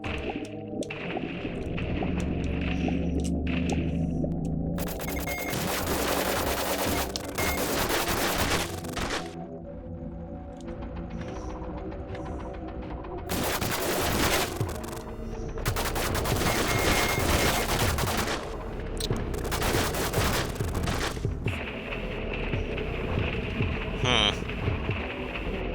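Rapid video game gunfire, dense bursts of automatic shots and explosive crackle in a shooter, loud and near throughout with music and game ambience underneath.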